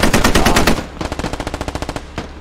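Automatic gunfire in the military shooter game Squad rattles off in two rapid bursts, the first dense and loud, the second a slightly quieter string of evenly spaced shots.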